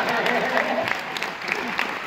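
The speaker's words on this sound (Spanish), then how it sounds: "Aplauso para todos los comediantes que abrieron mi show esta noche." Audience applause for the opening comedians at a Mexican stand-up comedy show: a dense, steady wash of clapping that fills the whole short stretch, loud and close.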